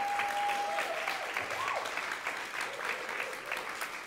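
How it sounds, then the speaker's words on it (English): An audience at a chamber music concert applauds for the audio engineer, a dense, steady wash of clapping that holds for the whole stretch, with a brief tone and faint voices showing through. "that was a great round of applause"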